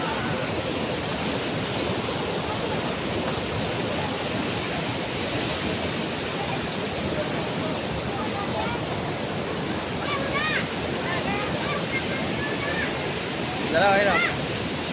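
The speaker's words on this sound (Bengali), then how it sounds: "কত সুন্দর জল" Water rushes steadily at a scenic outdoor spot, a loud continuous wash of flow with wind buffeting the microphone, and a brief louder gust near the end.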